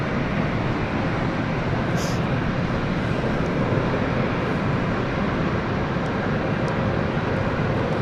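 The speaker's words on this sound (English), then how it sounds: "There it is, right above us is the A380 we mentioned earlier, which was in a holding pattern." An Airbus A380 airliner passes overhead at London City Airport, a steady broadband jet roar that fills the clip at constant loudness.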